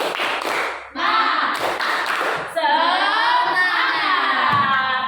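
A group claps in a rapid, rhythmic pattern, then voices of children shout and chant together loudly, close by.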